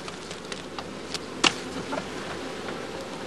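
Honey bees buzz softly on hive combs as a beekeeper works the hive, a faint continuous drone with a brief sharp knock near the middle.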